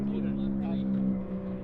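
Three-rotor Mazda RX7 race car engine running rich and breaking up, heard as a rough, uneven buzzing drone at moderate distance that fades partway through, with speech over it.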